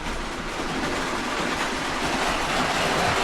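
A train rolls steadily through a station, a loud continuous rumble and broadband rush of wheels on rail that stays even from start to finish, with no voices.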